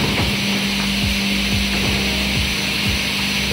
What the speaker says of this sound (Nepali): pasting machine